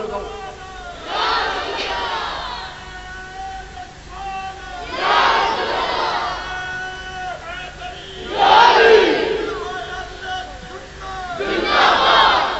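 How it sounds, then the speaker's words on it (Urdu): Massed voices at a religious gathering chant a slogan in loud, repeated bursts. A leader's call is answered by the crowd roughly every three to four seconds, with quieter murmuring in the gaps. "او اچھی آواز نال نعرہ لگاؤ"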